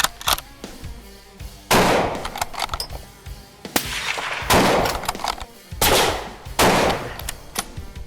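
A Winchester XPR Stealth SR rifle, threaded for a silencer, fires several loud, sharp shots spaced a second or two apart outdoors, each with a short ringing tail and no talking.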